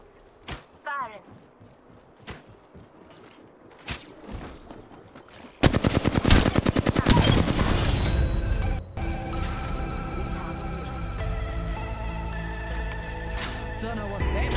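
Bursts of automatic gunfire from Apex Legends, a few sharp isolated shots at first, then sustained loud rapid firing with dense game effects, heard close.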